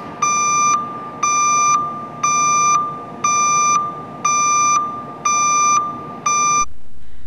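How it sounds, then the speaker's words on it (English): A JLG lift's battery discharge indicator sounds loud, evenly spaced electronic beeps, seven sustained tones about a second apart, then stops. "the bars flash and an audible beeping system begins"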